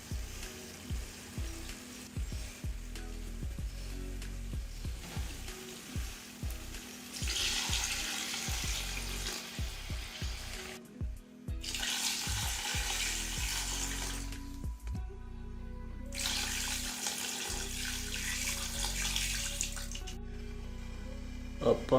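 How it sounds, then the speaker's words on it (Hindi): Water poured into a pot of cooking camel meat for a pulao in a village near Madinah, Saudi Arabia: bursts of broadband pouring and splashing alternate with stirring clatter and sizzling, loud and close. "अब मैं इसमें डालूँगा पानी।"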